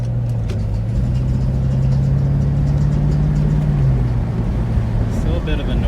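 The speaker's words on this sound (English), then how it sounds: "Not sure what that is, unless it really is just that main serpentine belt that's bad." Engine of a 1998 C5 Corvette with a suspected bad serpentine belt drones steadily from inside the moving car, a low humming tone rising and falling slightly, with a voice talking over it.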